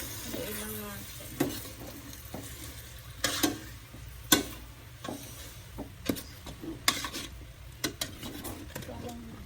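Salmon sinigang stirred in a pot, with a utensil scraping and clinking against the pot in irregular bursts over a quiet background.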